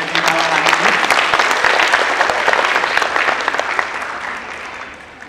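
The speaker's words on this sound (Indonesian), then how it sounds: "Tepuk tangan untuk kita semua yang ada di malam hari ini." Audience applause fills a university theatre hall at an evening event, a dense, steady clapping from a large crowd that stays loud throughout before easing slightly toward the end.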